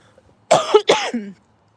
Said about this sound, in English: as long as I cough into the microphone